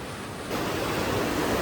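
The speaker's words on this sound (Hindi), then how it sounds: "अच्छा ये आउटलेट है, यहाँ से फिर नदी में चला जाएगा है।" Water rushes from a turbine outlet into a river, a loud, broad, steady roar that swells up suddenly after a moment and then holds constant close by.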